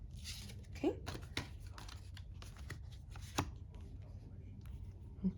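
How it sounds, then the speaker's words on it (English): Tarot cards are shuffled by hand in quick, soft riffles and taps, faint and close, with scattered crisp flicks and a few light knocks. "I'm just gonna go ahead and give these cards a quick little shuffle"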